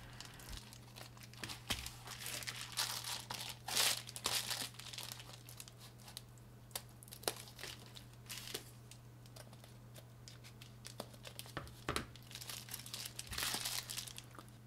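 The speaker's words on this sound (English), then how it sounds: "Now I'm just going to cut out these two circles with some scissors." Crinkly, rustling snips and crunches repeat irregularly as scissors cut circles from a reflective insulation sheet, over a steady low hum.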